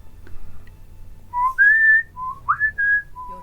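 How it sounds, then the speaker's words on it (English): A clear melodic whistled tune in a TV series soundtrack, several sustained rising and held notes over a soft low musical backing. "Hear the music? That's the whistling."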